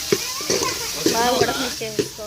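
Chicken curry masala frying and being stirred in a pan, with a steady sizzle broken by repeated scraping strokes of a spoon and occasional faint voices in the background.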